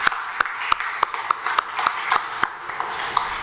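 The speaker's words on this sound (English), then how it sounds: "Let's welcome him with a huge round of applause." Sparse, sharp hand claps from a meetup audience on blockchain technology, spaced individual claps with a ringing, echoey quality rather than full applause, over a faint room background.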